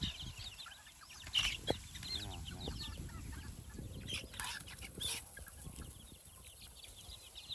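Free-ranging chickens in a flock of about 80 birds cluck steadily at close range, with bursts of louder squawking and clucking over an outdoor yard background, no talk.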